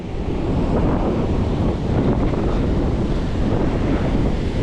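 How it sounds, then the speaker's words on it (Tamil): Sea waves breaking on the shore at Hut Bay, Little Andaman, a dense, continuous surf roar heard close, mixed with wind buffeting the microphone. "அலை பயங்கரமாக வருதுங்க இந்த ஏரியாவில்"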